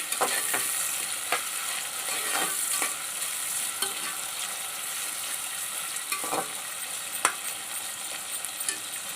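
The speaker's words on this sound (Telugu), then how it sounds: "కొంచెం తేలిక పడే వరకు ఫ్రై అవనివ్వాలండి" Onions frying in a pan for a Rayalaseema-style mutton head curry, a steady close sizzle with intermittent scraping and stirring clicks, no talking.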